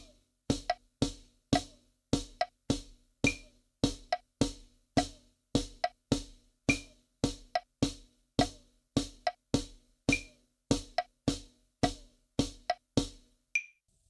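Evenly spaced drum hits played as quarter note triplets, a steady, sharp pulse of about two strikes per second with a cymbal ring on some beats, clear and close with no talking.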